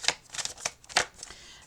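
Tarot cards being shuffled by hand, a series of quick papery riffles and slaps in short irregular bursts, close and fairly quiet with no talking.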